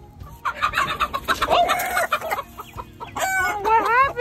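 A rooster crows and chickens cluck close by in a backyard flock, with short bursts of clucking and squawks rising into a loud crow near the end.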